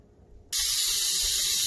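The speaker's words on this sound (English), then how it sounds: "Releasing the steam." Steam bursts abruptly from a pressure cooker holding rotini in orange sauce with Italian sausage, a loud, steady, broadband hiss that starts suddenly after a quiet moment and continues unbroken.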